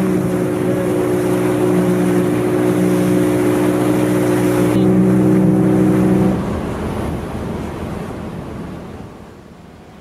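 A motorboat ride ashore from the icebreaker Kapitan Khlebnikov off Greenland: a loud, steady outboard engine drone with rushing water and wind, the engine tone dropping away partway through while wash and wind noise carry on.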